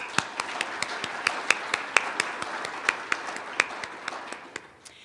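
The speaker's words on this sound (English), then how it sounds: "let's give them one more round of applause" A conference audience in Laramie, Wyoming applauds in a steady wash of clapping. Sharper individual claps stand out at an irregular rhythm throughout, and the sound tapers off near the end.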